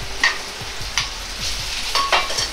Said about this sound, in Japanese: 牛肉を炒めます。